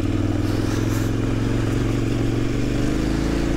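A motorcycle engine rumbles loudly and steadily nearby, a continuous low throb with no voices, on a trail ride in Occitanie.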